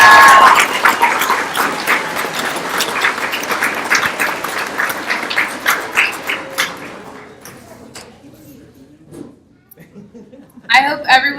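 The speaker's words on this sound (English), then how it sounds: "Let's give them another round of applause" Audience applause at a 4-H Club youth speech contest: loud, dense clapping at the start that gradually thins and fades, with a voice talking over it and a few scattered claps near the end.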